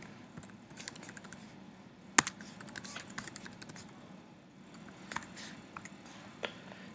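Keys clatter on a computer keyboard while someone types login details, a quiet, steady run of close clicks with one sharper tap standing out, and no talking.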